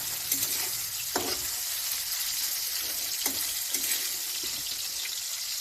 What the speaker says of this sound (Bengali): ছোটো মাছটা ভাজছি, দেখো